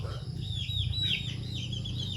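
Chickens settling onto their roost at night give soft, high clucks and chirps against a steady low hum, with a voice talking quietly nearby.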